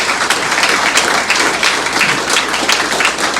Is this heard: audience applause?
yes